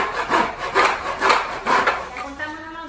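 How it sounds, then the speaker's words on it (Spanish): A hand saw cuts through a wooden board for a board and batten wall, its strokes coming in a steady rhythmic back-and-forth of rasping pushes and pulls, close and loud with no talking. "Y el serrucho para cortar la madera."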